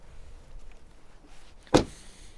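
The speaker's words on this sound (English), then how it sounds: "We have the electric windows on the doors." A rear electric window on a BMW 330i M Sport, heard inside the quiet car as a faint motor hum followed by a short, sharp thud as the glass stops.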